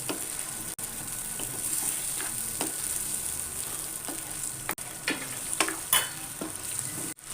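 Yogurt fries into chicken handi masala, holding a constant close sizzle as a spoon scrapes and taps the pot at irregular moments, moderately loud, with no talking.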